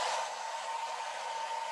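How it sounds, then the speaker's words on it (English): A handheld hair dryer blows warm air in a steady, loud, close whoosh with a constant motor whine, running alone without pause and no voices. "I have a hair dryer."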